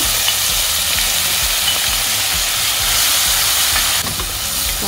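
Tomato paste frying in a pan for a Kerala sardine curry, a steady, dense sizzle and hiss close up that holds throughout with no talking.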